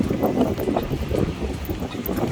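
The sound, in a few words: cold wind on a bridge in Siargao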